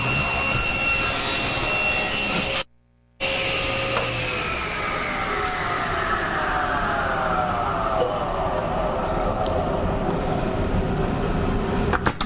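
Power saw cutting a 1 1/4 inch wood strip for a jewelry box: a steady, loud whine with descending tonal sweeps as the blade works through the piece, broken by a brief silent gap early on.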